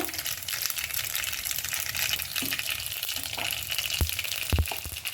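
Urad dal, chana dal, mustard seeds, cumin and asafoetida sputter in hot oil for a brinjal curry tempering, a continuous close sizzle with sharp pops and crackles near the end.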